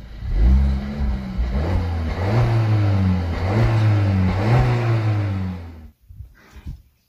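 A car engine is revved repeatedly in a sound test, loud and close, its pitch rising and falling several times before it cuts off abruptly, followed by a brief clatter.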